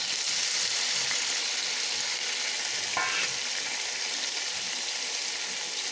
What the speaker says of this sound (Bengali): কড়াইতে সাদা তেল দিয়েছি, দিয়ে পনিরগুলো দিয়ে দেবো।